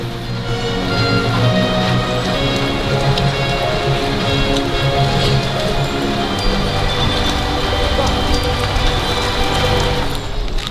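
Steady rain pours down at Legoland Billund, a dense, even patter on surfaces that stays loud and continuous for the whole stretch, with no voices over it.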